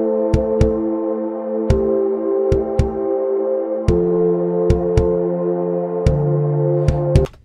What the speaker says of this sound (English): And I've also got this kick drum going here.